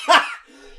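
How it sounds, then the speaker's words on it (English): A single harsh cough from someone getting over a cold, loud and close, tailing off into quiet breath. "I really needed to get that cough out too"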